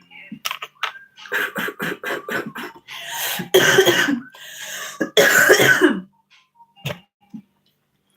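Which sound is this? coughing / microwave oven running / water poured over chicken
coughing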